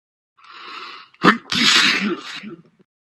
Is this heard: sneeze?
yes